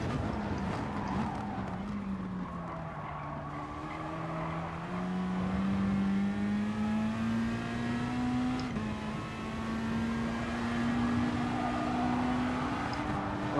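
Racing car engine in the GT Sport video game, a steady sustained drone whose pitch rises and falls gently through gear changes, loud and continuous with no talking.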